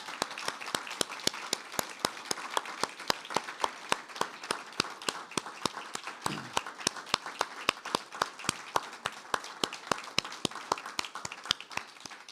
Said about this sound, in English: we need to give Dante some more applause